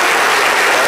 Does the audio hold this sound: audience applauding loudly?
yes